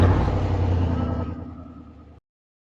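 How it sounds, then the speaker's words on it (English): A 2003 Chevy truck engine at cold start, a loud low rumbling roar up close that gradually fades before cutting off abruptly, followed by silence. "Cold start!"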